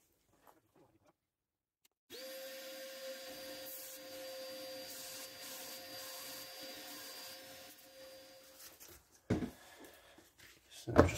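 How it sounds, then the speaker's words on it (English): Belt sander cleaning up stabilized pine cone and resin blanks starts after two seconds of near silence, running with a steady whine and rubbing grind, then stops, followed by a few brief knocks and handling clatter. "I'll get them cleaned up on the belt sander."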